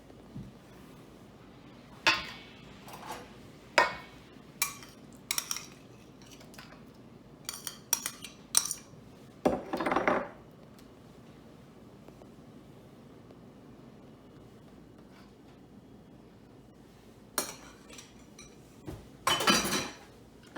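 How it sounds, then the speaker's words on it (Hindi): Butter being worked into dough in a bowl while making cinnamon buns, heard as scattered clinks and scrapes of a utensil against the bowl in short bursts, with quiet gaps between them. "अब ये मिक्स करना है।"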